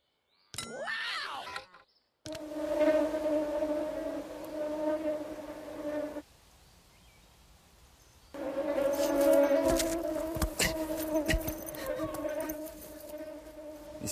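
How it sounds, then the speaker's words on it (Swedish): Mosquito approaching with a steady, thin whining buzz that holds for several seconds, drops away briefly, then returns louder and closer with some crackling noise underneath. "Ljudet av en mygga som närmar sig"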